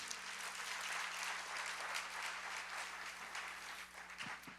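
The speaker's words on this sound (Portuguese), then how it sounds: "Você pode aplaudir o Senhor." A church congregation applauds, a continuous, even patter of many hands heard fairly faint and at a distance, tapering slightly at the end with no talk over it.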